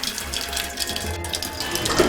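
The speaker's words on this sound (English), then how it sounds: "And pours a cup of tea." Tea pours steadily into a cup in a soft, continuous trickling stream, close by, with no talking.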